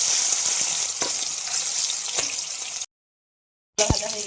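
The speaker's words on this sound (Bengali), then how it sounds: "এবার আমি চিকেনগুলো ভেজে নেব।" Chicken pieces sizzle loudly in a pan of hot oil, a dense, steady frying hiss that cuts to silence briefly before resuming with a crackling burst.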